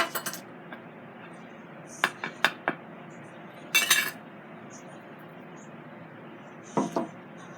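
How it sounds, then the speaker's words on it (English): Chicken wings being tossed with KFC seasoning mix in a bowl, giving scattered clinks and knocks of utensil against dish in a few short clusters, with no voices. "Mix it up good as possible."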